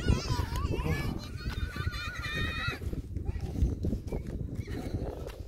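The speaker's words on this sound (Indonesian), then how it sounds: "Kuda." On Mount Bromo, a horse whinnies in a wavering, high call while hooves clop steadily on the ground, with people talking in the background.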